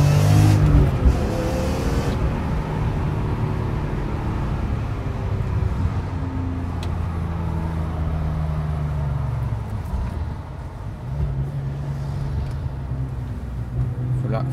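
BMW M3 E46 accelerating: a loud, close engine rising through the revs with rising and shifting harmonic tones, a brief lift around the midpoint, then pulling hard again, continuous for the whole stretch.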